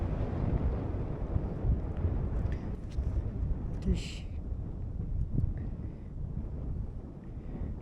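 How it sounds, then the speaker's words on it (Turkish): Strong wind buffets the microphone in a constant low roar at the ancient city ruins of Laodikeia, Denizli, with a brief word spoken and faint scattered sounds in the background. "Çok rüzgar var."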